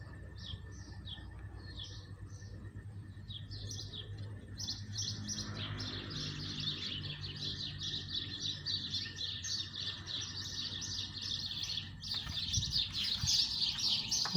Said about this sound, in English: Oh, the sparrows.